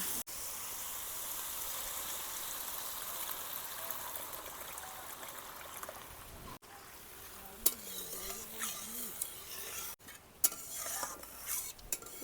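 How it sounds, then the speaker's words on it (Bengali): Boiled potatoes stirred in a pot of Bengali egg-ball curry, a steady wet scraping and sizzle throughout with a few sharper clinks of the spoon near the end, close and without talk. "এদিক ওদিক নাড়াচাড়া করে পরিমাণ মতো জল দিয়ে দেব"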